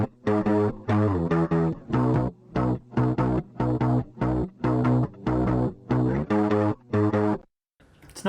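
Guitar part with chorus effect, a steady run of short rhythmic chord stabs repeating evenly, close and full, stopping near the end.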